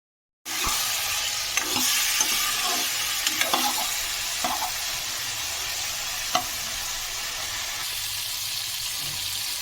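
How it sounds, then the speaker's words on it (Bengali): Small cauliflower pieces fry with salt and turmeric in a pan, a steady close sizzle with occasional soft scrapes of stirring, starting abruptly and carrying on evenly without speech. "এখানে ফুলকপিগুলোকে ছোট ছোট করে কেটে নুন হলুদ দিয়ে ফ্রাই করে তুলে নেব"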